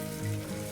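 Broad beans tipped into a hot pan for a mixed vegetable curry, giving a short, soft, steady sizzle and crackle close by with no voice over it.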